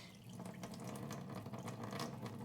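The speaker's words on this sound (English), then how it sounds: "I'm gonna take it and drain off most of the water." Water drains off soaked rice for dosa batter under a plate held over the bowl, a steady splashing trickle with small drips running throughout.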